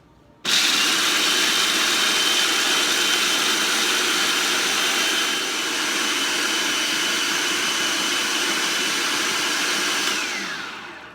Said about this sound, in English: going to put the lid on the food processor and process this until we've got peanut butter